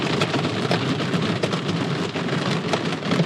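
Torrential rain and hail pounding on a camper in the Black Hills, a dense, continuous roar of drumming impacts with no pause, loud and close overhead.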